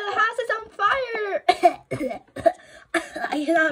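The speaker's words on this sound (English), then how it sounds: "I cannot breathe in here. I'm coughing." A child coughs repeatedly in short harsh bursts between spoken words, several coughs spread through a few seconds, close and loud.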